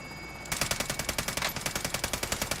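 In a video game, a helicopter fires a burst of rapid automatic gunfire that starts abruptly after a brief moment of quiet background and then hammers on in evenly spaced, loud shots.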